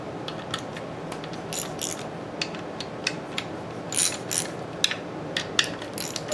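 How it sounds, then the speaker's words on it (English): Parts of a cracked Briggs & Stratton NR6 engine being unscrewed, a dry metallic ratcheting and clicking close by, with irregular bursts of scraping and sharp ticks over a steady low background. "Let me unscrew this."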